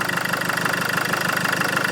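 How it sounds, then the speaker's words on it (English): A Land Rover Freelander engine, which has a camshaft position sensor fault and cold-starting trouble, runs at a steady idle, a loud, close, even rumble with a faint rhythmic knock. "let's just turn off the engine"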